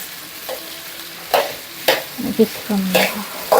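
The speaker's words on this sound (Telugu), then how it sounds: "ఇలా మంచిగా కలిపేసుకోవాలి ఇలాగా ఈ బెండకాయల్ని కలుపుకోవాలండి" Okra (bhindi) fries in a pan while a spoon stirs it, giving a few scattered scraping strokes over a faint sizzle in a short stretch without speech.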